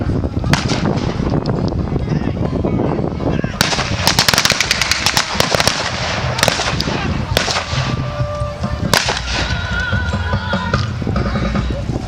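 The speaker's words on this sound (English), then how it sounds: "we've got a field artillery unit firing 155mm howitzers that will be sent up to give gunfire support" Field artillery 155mm howitzers firing at a battle display, with sharp, loud booms and cracks repeating irregularly over a noisy outdoor background with some talk.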